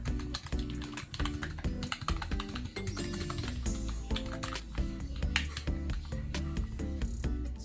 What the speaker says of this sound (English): let's do a quick type test